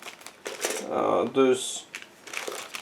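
Crinkling of a plastic bag holding two plastic model kit sprues for a 1/35 scale tank model as it is opened, close and brief, with someone talking over it.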